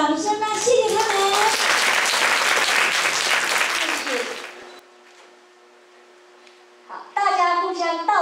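Audience clapping at a school graduation ceremony, a dense burst of applause lasting several seconds that fades to near silence, with a voice speaking before and after.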